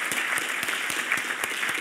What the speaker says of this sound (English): Gosh, they need their own round of applause.